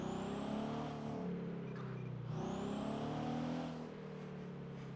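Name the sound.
fast car driving past in GTA V NoPixel video game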